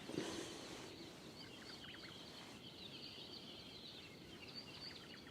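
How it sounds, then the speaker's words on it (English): Birds sing faintly in trees at Kīlauea in Hawaii Volcanoes National Park, with scattered high chirps and trills over a constant broad wash of wind or ambient noise. "Joseph, the sounds are hard to beat here with the birds coming alive in the trees"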